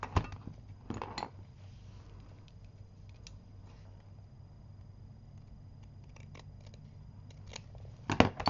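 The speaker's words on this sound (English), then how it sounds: "I'm going to trim down that cardstock" Scissors trimming cardstock at a craft table, a few quiet, close snips and crisp cuts spaced irregularly against a faint background hum.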